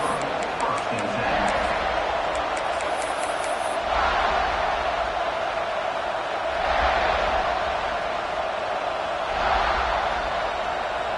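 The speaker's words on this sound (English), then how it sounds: "This crowd ready to make its presence known." Stadium crowd noise in an Ole Miss versus South Carolina college football video game, a steady loud roar that swells in several waves, running continuously beneath commentary.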